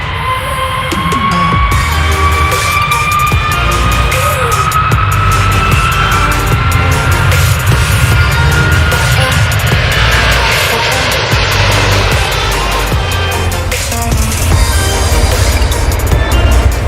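Airplane engine roaring steadily at close range throughout, with a rising whine layered over a broad, continuous rumble as an aircraft powers up for takeoff during pilot training in India.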